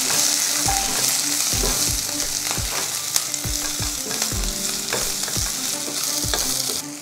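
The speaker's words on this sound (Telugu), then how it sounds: "ఈ ఉల్లిపాయల్ని 1 నిమిషం వేయించుకోవాలి." Chopped onions fry in a pan for a ridge gourd chutney, a steady close sizzle broken by repeated scraping and stirring strokes of a spoon, with no voices over it.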